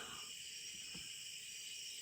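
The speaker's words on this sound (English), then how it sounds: "those are crickets in the background" Crickets chirp in the background as a steady high-pitched shimmering drone, faint and continuous, with a couple of soft low knocks near the start and no voices.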